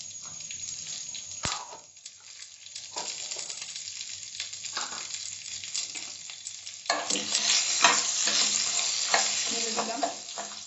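Ginger and green chili fry and sizzle in a pan for curd rice, with steady crackling and repeated scraping stirs that grow louder and busier toward the end; nobody speaks.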